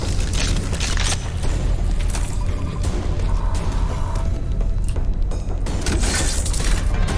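Heavy, booming shotgun blasts in the open-world shooter Rage 2 sit amid dense, continuous combat noise, loud and close throughout.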